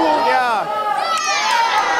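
A game show studio audience cheers and shouts as a round begins, a loud, continuous burst of excited voices, some high-pitched like children, rising and falling over two seconds.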